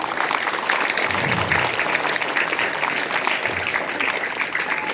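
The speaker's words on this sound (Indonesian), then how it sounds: "kita tepuk tangan untuk Paskibra kita." A school audience claps for its flag-raising troop at a National Education Day assembly, the applause dense and sustained throughout, with faint crowd murmur underneath.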